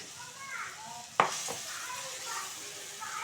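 Split pea (motor dal) fritters fry in hot oil with a steady close sizzle, broken by a sharp clink of a utensil against the pan and some stirring.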